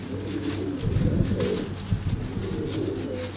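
Pigeons coo repeatedly at close range on a windy day, their low rolling calls carried over a steady rush of wind.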